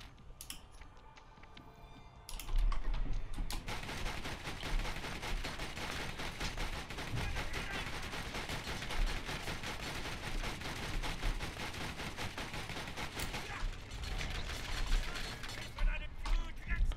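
Dense, rapid bursts of gunfire crackle almost continuously after a brief quieter start, automatic weapons firing in the video game Borderlands, with a few sharper cracks near the end.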